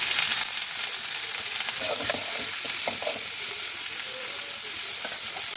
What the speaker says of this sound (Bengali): আলু কপিতে লবণ দিয়ে ভেজে নেব